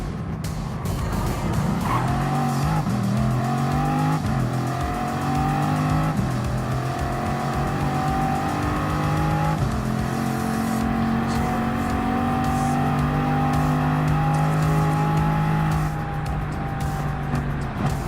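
Bugatti Vision Gran Turismo race car in a Gran Turismo Sport one-make race, its engine droning loud and steady with pitch climbing and falling through throttle and braking, faint tire squeal, continuous for the whole stretch.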